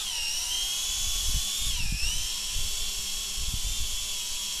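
Steady high-pitched whine of an XK X300 quadcopter drone hovering in place after an automatic takeoff, its motors droning continuously and close by with slight pitch wavering, plus a few low thumps.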